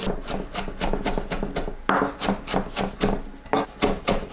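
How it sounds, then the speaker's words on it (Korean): A knife chopping the white part of a green onion into small pieces on a cutting board, a close, loud run of quick rhythmic strikes with short pauses between bursts. "파 흰 부분을 작게 썰어주세요."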